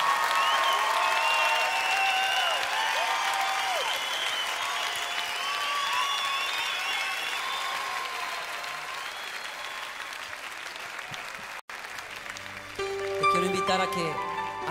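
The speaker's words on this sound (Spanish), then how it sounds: "dale al Señor un aplauso como Él merece" A worship congregation applauds in a long, dense wash of clapping while music plays beneath it, then the clapping fades and the band continues alone near the end.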